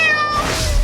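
A single loud, close cat meow, drawn out and falling in pitch, heard alone.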